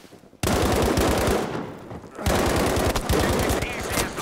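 Dense automatic gunfire in the World War II shooter game Battlefield V, a loud rattling burst of rapid shots that breaks off briefly and then resumes just as heavily.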